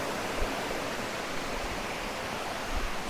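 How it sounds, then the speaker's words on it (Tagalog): Water pours over Maticdum Busay Falls near Tandag City, Surigao del Sur, as a constant broadband rush, steady and fairly full, with no voices over it. "Wow, the water is flowing."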